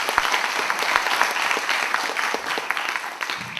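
An assembly audience claps in steady, dense applause approving an agenda item, close and sustained throughout with no speech over it.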